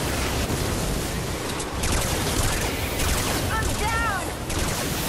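Weapon fire in the video game Fortnite Save the World, a dense burst of rapid, noisy blasts rolling continuously, loud and close, with brief whistling tones near the end.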